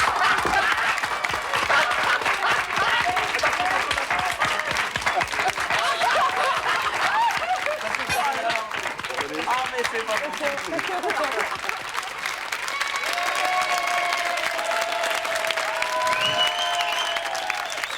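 Television studio audience of the French prank show Surprise sur Prise applauding loudly and continuously, with scattered chuckles and crowd noise; near the end a voice speaks over the fading claps.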